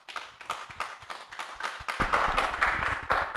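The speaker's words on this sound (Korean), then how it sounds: "두 분을 박수로 환영해 주시기 바랍니다." An audience claps to welcome two presenters at an academic theology conference, the applause building from scattered, uneven hand claps into fuller, denser clapping.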